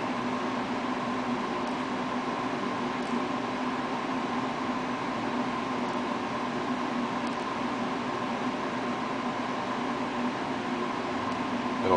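An RCBS Charge Master 1500 powder dispenser runs with a steady, even mechanical whir and hum, close and continuous, with no voices over it.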